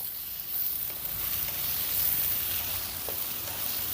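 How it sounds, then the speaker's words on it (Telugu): Chopped carrot and capsicum pieces frying in a hot pan, a steady close sizzle that holds evenly throughout with a faint stirring tick near the end, no voices. "ఇప్పుడు వీటన్నిటిని రెండు నిమిషాలు ఫ్రై చేసుకుందాం"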